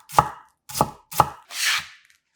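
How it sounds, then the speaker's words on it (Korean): A knife chops onion into small pieces on a board: three sharp, evenly spaced chops close up, then a softer scraping sweep, with no talking. "양파 약간을 칼집 여러 번 넣고 작게 썰어"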